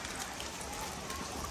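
Steady rain falls on hard surfaces outdoors, an even hiss of drops that holds at a moderate level throughout with no voices over it.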